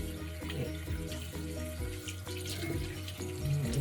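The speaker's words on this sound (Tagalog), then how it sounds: "warm water" Warm water runs steadily from a tap into a sink during a nighttime skincare routine, a continuous close splashing flow with no voices.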